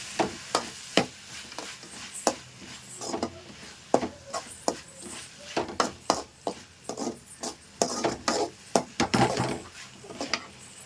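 Tomato and onion sautéing together in a pan for a spicy chicken gravy, with a steady run of spoon scrapes and knocks against the pan over a low sizzle, close and busy.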